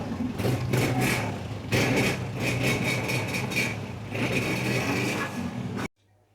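A used 2010 Honda 125 motorcycle engine runs steadily at a low idle for about six seconds, close and loud, then cuts off abruptly.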